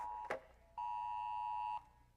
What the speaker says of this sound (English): Uh-oh, all of our phones are going to go off.